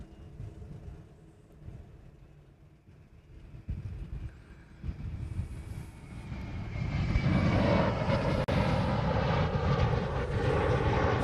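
An airplane departs Honolulu airport on Oahu, starting as a distant engine rumble and building into a loud, broad jet roar that holds steady through the end, with no talk.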